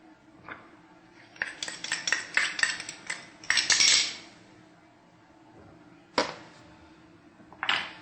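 Utensil clinks and scraping as ketchup, turbinado sugar and lemon juice are stirred together into cocktail sauce in a bowl, in irregular bursts of close clattering with quiet pauses between.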